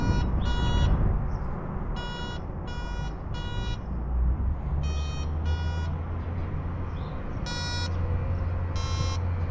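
A Kaiweets KGM01 metal detector sounds short, bright electronic beeps in irregular bursts as it passes over a gold ring, loud and close above a steady rumbling background noise.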